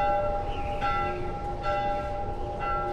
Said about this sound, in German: Ich glaube, ich gehe mal in Richtung Glocken.